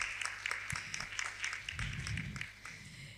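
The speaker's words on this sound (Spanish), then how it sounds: "Un aplauso, por favor, para recibirla." Audience at a panel on gender rights gives welcoming applause, a moderate burst of distinct claps with a rhythmic patter, fading slightly toward the end under some low murmuring.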